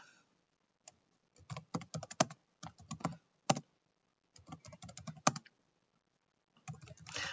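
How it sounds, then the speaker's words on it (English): Fast bursts of keystrokes on a computer keyboard, clattering in uneven runs with short pauses between, close and clear with no voices. "Let me type."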